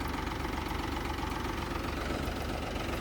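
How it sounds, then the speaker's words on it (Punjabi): A tractor engine idles close by, a steady, even low rumble with a slight knocking throb that continues unchanged for the whole stretch, with no talking. "ਇੱਥੇ ਮੈਨੂੰ ਹੁਣ ਵੀਰ ਦਾ ਟਰੈਕਟਰ ਲਿਆਂਦਾ ਹੈ"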